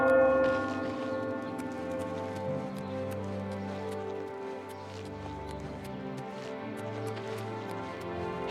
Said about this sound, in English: Pretty sure the church bells are new?